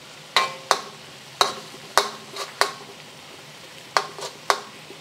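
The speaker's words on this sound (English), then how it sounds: "I'm going to put it to the side where I can see that it's still sizzling." Ground beef sizzles quietly in a pan while a utensil scrapes and taps against it about ten times in irregular strokes, close by.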